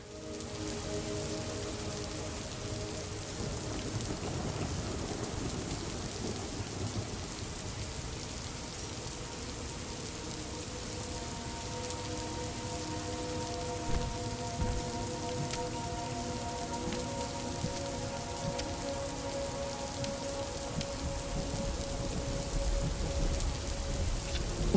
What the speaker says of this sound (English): it's raining and we're standing indoors